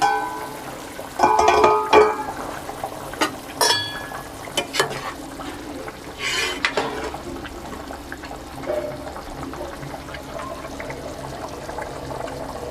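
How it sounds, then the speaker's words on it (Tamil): Vada curry gravy bubbles and simmers in a pot, with soft continuous burbling and a few louder splashy bursts of liquid near the start and middle over a steady kitchen hiss. "நல்லா குழம்பு கொதிச்சிருச்சு"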